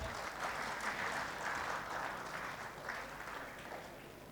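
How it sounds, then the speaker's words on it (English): Warm audience applause welcoming a panelist at a corporate summit's retail and FMCG panel, a dense continuous roar of many hands clapping at steady volume that tapers slightly near the end. "Huge round of applause, please."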